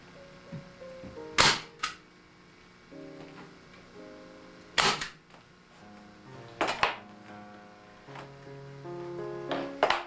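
A staple gun fires into a belly cloth for an Ampico grand player piano, with about four sharp, close snaps spaced a few seconds apart amid quiet handling noises.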